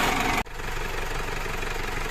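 A Cummins ISF 2.8 diesel engine runs steadily after a general overhaul, with a brief dip at the start before settling into an even, close idle hum.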